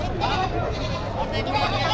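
Goats bleat at a busy livestock market, nasal calls scattered beneath constant crowd chatter and talking nearby.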